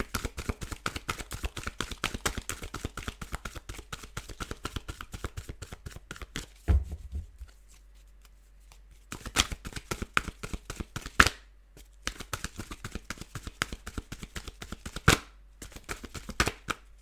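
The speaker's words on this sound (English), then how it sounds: "I figured I'd just shuffle so I get a card." Rapid fluttering riffles of tarot cards being shuffled, steady and close, broken by a few brief pauses before the shuffling resumes; no talking.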